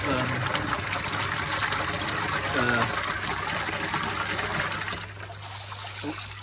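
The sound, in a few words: water gushing from pond filter pipe through opened valve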